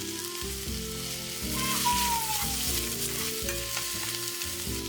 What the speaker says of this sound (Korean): 그 다음 썰어둔 어묵을 넣어주고요. 볶다가 마라소스를 듬뿍 넣어줍니다.